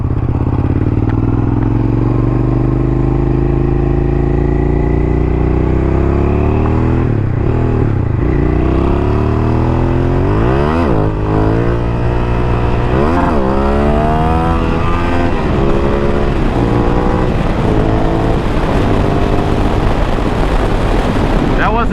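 A Suzuki SV650 motorcycle with upgraded brakes accelerates hard, its engine revving up and dropping repeatedly through gear changes, loud and close with wind noise throughout.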